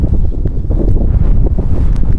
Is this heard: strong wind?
yes